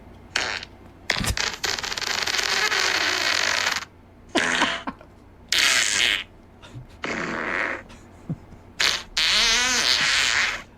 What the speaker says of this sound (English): this one's called Wet Fart Sounds